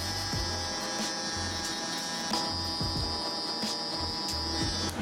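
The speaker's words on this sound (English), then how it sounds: "Be minimal with the touch, because we do not want to create a line with the foil shaver," An electric foil shaver buzzing steadily on a client's head during a burst fade haircut, a close, continuous hum with short pulses as it touches and lifts off the hair, no talking.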